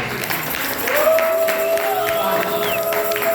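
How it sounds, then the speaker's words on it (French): A church congregation breaks into joyful acclamation, a dense wash of clapping and cheering that fills the room, with shouts and a sustained cry rising above the crowd noise throughout. "Acclamez maintenant pour le Seigneur."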